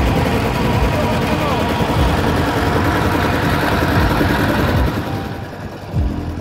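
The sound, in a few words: trawler boat engine moving along Sundarbans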